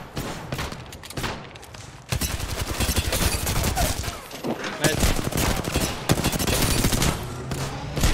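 Bursts of automatic gunfire in the battle-royale game Apex Legends, loud rapid volleys coming in clusters over a busy game soundscape, with players talking over the shooting.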